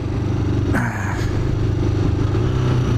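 A motorcycle engine revs with rev matching during a cold early-season ride, the rider's finger on the brake. A close, loud, continuous engine drone swells briefly near the start and then settles into a steady running note.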